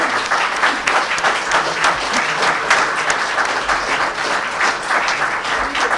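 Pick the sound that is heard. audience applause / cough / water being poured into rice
audience applause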